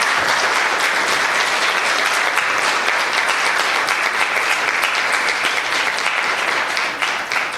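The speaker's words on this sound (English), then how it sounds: "I'd like to ask the audience to give them, please, a proper round of applause this time" Sustained, dense round of applause from a conference audience honoring award winners at a Caribbean AI forum, loud and even throughout with a slight dip near the end.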